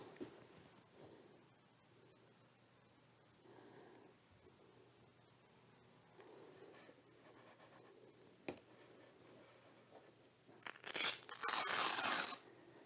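Scissors cut through a strip of Velcro meant to hold two batteries in an H-King Wargo Extreme 3D model airplane: a short, loud burst of rough tearing, crunching texture after a long stretch of quiet handling.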